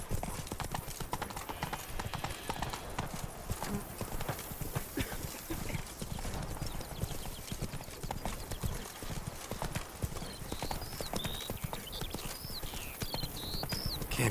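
Horse named Roach trotting in The Witcher 3, steady clip-clop of hooves continuing throughout with a brief whinny-like tone near the end, close and fairly loud over faint ambient background.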